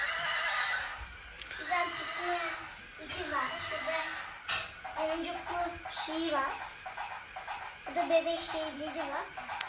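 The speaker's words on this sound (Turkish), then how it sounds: "burada da atların çıkardığı sesi çıkarıyor değil mi?" A high, shrill neighing sound repeats several times from a toy, mixed with a child's and an adult's voices talking nearby.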